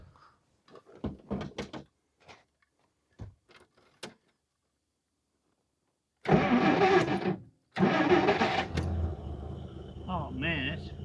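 A 1950 Plymouth barn-find engine cranks and catches after a few scattered clunks and knocks, runs loud and rough for a second, pauses briefly, then fires again and keeps running, with a voice talking near the end.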